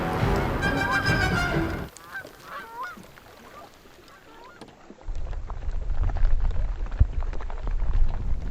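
A large flock of geese honks loudly and rapidly nearby in a wilderness park, the calls cutting off after a couple of seconds, followed by quieter sounds and then wind or water rumble.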